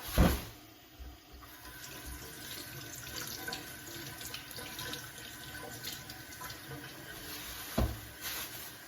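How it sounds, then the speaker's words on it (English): Running tap water splashes steadily into a sink as lamb shanks are rinsed, a close continuous gush broken by a few knocks and thuds of handling, with no talking. "I'm going to rinse out the lamb shanks"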